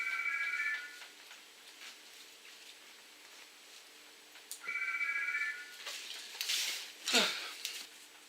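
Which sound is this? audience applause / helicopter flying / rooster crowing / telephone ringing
telephone ringing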